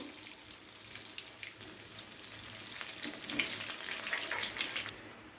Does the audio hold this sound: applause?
no